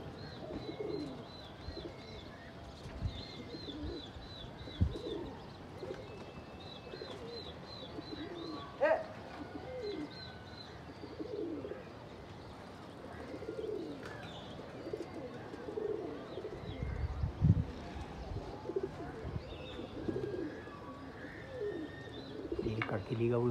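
Desi Gola pigeons coo repeatedly in a rhythmic, soft burbling pattern at moderate distance, with background outdoor noise, faint chirps and occasional indistinct voices on a hot, breezy day.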